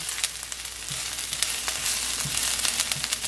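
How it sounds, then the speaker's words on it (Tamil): Ginger and garlic sizzle in hot oil in a pan, a steady loud frying hiss with small crackles and pops throughout, no voices. "இந்த இஞ்சி உள்ளியில் ஃப்ளேவர் இந்த எண்ணெயில் வாங்க விட்டுட்டு கொஞ்சம் பொரிய விட்டுட்டு"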